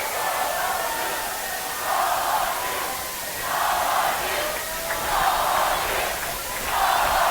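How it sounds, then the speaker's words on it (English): A high school basketball crowd roars in a gym during the Abraham Lincoln at Scottsbluff game: a loud, continuous wall of cheering and yelling that swells and eases in waves, with a few whistles and shrill cries cutting through. "You hear the crowd."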